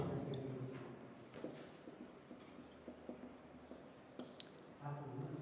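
Someone writes on a board while working through a chemistry question from the JEE Main 2026 exam paper, making scratchy, intermittent strokes over a faint background voice.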